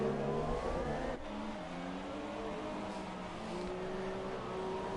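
F1 cars in a racing video game at the Spanish Grand Prix, including a Mercedes, with engines whining, dropping in pitch under heavy braking and climbing again under acceleration, steady and fairly close.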